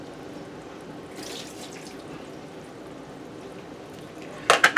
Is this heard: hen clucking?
no